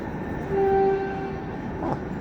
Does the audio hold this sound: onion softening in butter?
no